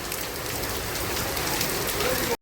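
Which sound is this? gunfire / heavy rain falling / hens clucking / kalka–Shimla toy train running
heavy rain falling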